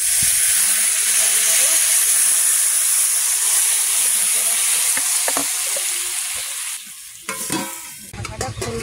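Water poured into a hot pan for a fish curry with taro bursts into a loud, sustained hiss of sizzling and steam. The hiss fades after several seconds into scattered clatter.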